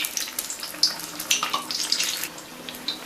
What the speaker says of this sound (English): fry them from both the sides until crispy